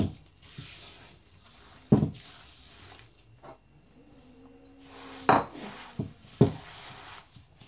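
Peanut cookie dough with coconut stirred in a bowl, giving soft mixing rustles broken by several sharp clinks and knocks against the bowl, close and intermittent, with no talk.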